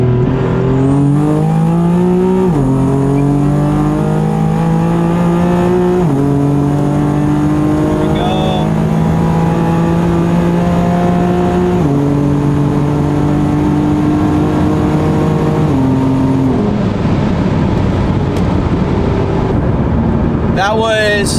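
A stock BMW M4 accelerates hard from 60 to 130, engine roar climbing steadily through each gear, with sharp drops at every upshift. It is loud and close, heard from inside the car, with a voice now and then beneath the engine.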